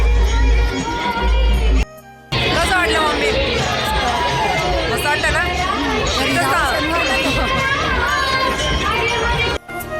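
Dense crowd hubbub at a Mahashivratri festival, with overlapping chatter, children's shouts and a steady babble of many voices close around, briefly cut out near the start and end.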